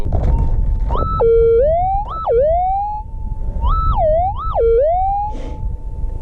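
A metal detector sounds a loud, sustained target tone while gold prospecting in Western Australia's northeastern goldfields. The pitch holds steady, then swoops up and down in several quick warbling sweeps over a low rumble of movement.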